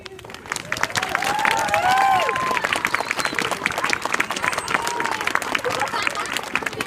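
At a school Veterans Day presentation, a crowd applauds after the national anthem, with steady clapping mixed with cheers, whoops and excited voices from a large group.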